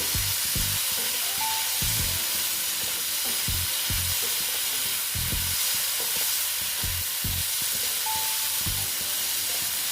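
Boiled chickpeas sautéing in a pan for a Bengali banana flower curry (mocha ghonto), with a steady close sizzle and frequent stirring scrapes and knocks across the whole stretch.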